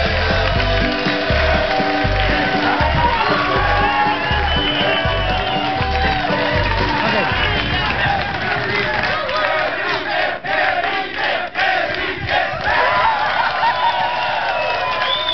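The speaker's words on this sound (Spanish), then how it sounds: "Un aplauso para María de las Nacas." Studio audience on a Spanish-language talk show erupts in loud cheering, whoops and applause, a dense roaring crowd that fills the room, with shouting voices and rhythmic pulses early on before thinning into scattered cheers.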